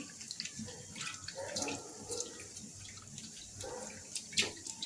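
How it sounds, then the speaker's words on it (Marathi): Running tap water splashes over breadfruit slices being rinsed in a sink, a steady close wash with small irregular splashes and no talking. "अशा प्रकारे 2-3 वेळा स्वच्छ धुवून घ्यायची."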